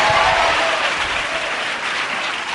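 A church congregation claps loudly and steadily, a dense wash of applause throughout, with no speech over it.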